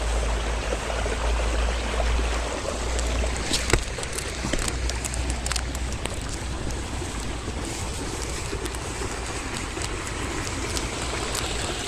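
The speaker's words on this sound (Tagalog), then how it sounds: "Ayan o, dinig ang sapa, guys. Ayan ang sapa o." A stream flows beneath a hanging bridge in Sabang, Naic, Cavite, making a steady close rush of water mixed with wind buffeting the microphone, with no talk.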